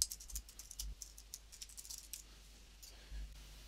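Typing on a computer keyboard: an uneven run of light, close key clicks and taps, with a few heavier strokes, heard alone without voices.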